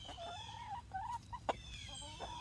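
Chickens cluck softly and intermittently while pecking at watermelon in a fall-decorated farm enclosure, with one sharper call near the middle; the birds sound close but quiet.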